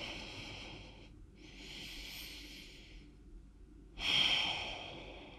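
Soft, deep breaths during a mat-based full-body workout, a long airy exhale followed by a stronger, nearer breath, quiet and close with no talking.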